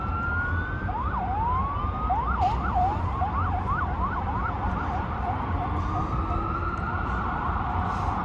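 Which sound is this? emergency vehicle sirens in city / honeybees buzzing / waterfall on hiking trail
emergency vehicle sirens in city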